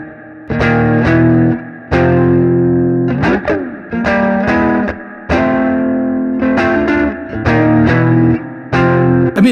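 Electric guitar through Silver Llama and Twin Panda amp simulators with the gain turned all the way up, heavily distorted chords struck in bursts with gaps between, loud and close, with reverb and no talk.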